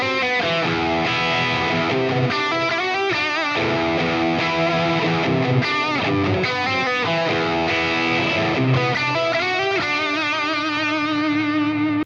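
Electric guitar played through a Fractal amp model with a BB Pre drive pedal in front, giving a thick, saturated rock tone; dense sustained chords and riffs ring continuously and loud, with no talking.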